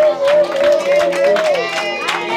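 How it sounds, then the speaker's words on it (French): A church congregation claps along for the Lord during a healing service, rhythmic hand claps mixed with crowd noise under a sustained singing or chanting voice. "On peut applaudir pour le Seigneur"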